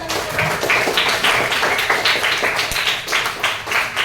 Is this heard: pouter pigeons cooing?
no